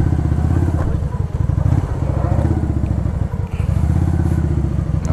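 Motorcycle engine running steadily and close while riding a road toward the Cascata do Chuviqueiro waterfall in Riozinho, RS, with a continuous low rumble, some clatter and thuds from the ride, and brief faint talk.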